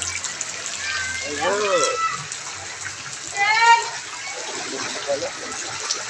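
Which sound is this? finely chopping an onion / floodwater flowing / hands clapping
floodwater flowing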